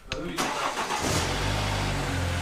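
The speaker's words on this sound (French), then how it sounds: "Donc là, démarrage de la bagnole." A car engine cranks briefly and catches, then settles into a steady low idle, heard close and fairly loud.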